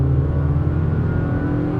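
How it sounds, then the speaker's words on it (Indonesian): Honda WR-V with a CVT gearbox accelerating, a steady, smooth engine drone and whir heard from close by with no voices, holding an even loudness through the short stretch. "Halus ketika dibawa berkendara, halus, agresif ketika melakukan akselerasi."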